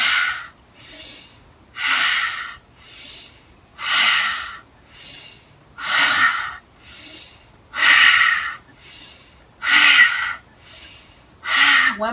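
Deep yoga breaths through an open mouth, a steady rhythm of about a dozen loud, close, breathy inhales and exhales alternating evenly.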